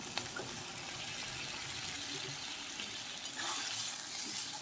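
Chana masala frying in a pan as water goes in, a close, busy sizzle with soft bubbling and a few stirring knocks, swelling slightly toward the end, with nobody speaking.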